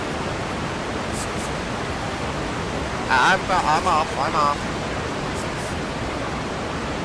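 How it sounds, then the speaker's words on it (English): Loud, steady roar of a large waterfall in the video game Skyrim, a broad rushing wash that fills the whole clip, with someone briefly speaking over it midway. "Good grief, that's loud. Then again, for a waterfall of that size, that's realistic"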